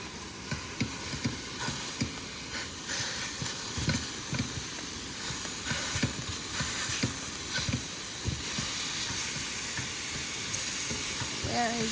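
Food sizzles in a greased pan at a snowy winter campsite, a steady hiss with frequent soft pops and crackles. It carries on for a while at moderate loudness with no one talking.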